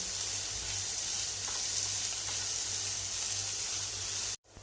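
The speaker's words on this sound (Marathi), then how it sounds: "सतत हलवत हलवत कांदा छान असा मऊ आपण परतून घेतलेला आहे।" Chopped onion fries over a medium flame with a steady, loud, hissing sizzle and faint stirring scrapes throughout, cutting off abruptly at the end.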